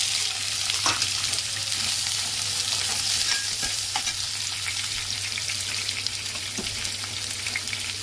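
Sliced onions and green chillies frying in hot oil for a cauliflower curry, a loud continuous sizzle with crackling pops and occasional stirring scrapes, close up with no talking.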